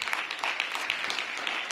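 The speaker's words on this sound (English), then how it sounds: "That deserves another round of applause." Applause from a crowd at an outdoor groundbreaking ceremony for the African American Civil War Museum, a steady, dense patter of clapping that holds fairly evenly through the whole short stretch.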